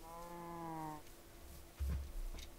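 A cow moos once in Minecraft, a drawn-out low call lasting about a second, followed by a few soft dull thuds.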